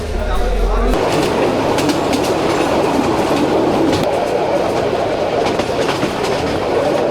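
A Chittagong-bound mail train rolls along the rails, a loud, close, continuous rumble with clickety-clack of wheels over joints, heard from aboard with people talking in the background.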